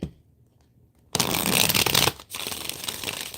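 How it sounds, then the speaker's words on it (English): A deck of tarot cards is shuffled in two close, crisp riffling bursts after a quiet start, with a short gap between them. "One more shuffle."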